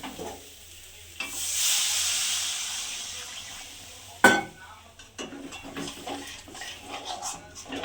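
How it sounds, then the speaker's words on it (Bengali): Water is poured into a pan of frying spices for an egg curry, setting off a sudden loud steamy hiss that swells and fades, followed by a sharper burst and lighter sizzling with stirring sounds. "এবারে অল্প একটু জল দিয়ে দেবো"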